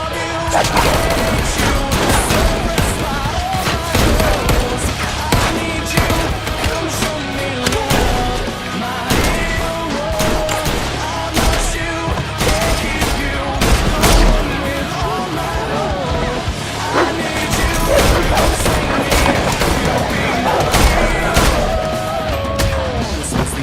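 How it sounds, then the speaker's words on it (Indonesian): Gunfire from the action film John Wick Chapter 3 Parabellum, a dense, continuous barrage of shots and crashing impacts mixed with film music, with a narrator speaking over it. "Sebagai pembalasan, Sofia menembak Berada"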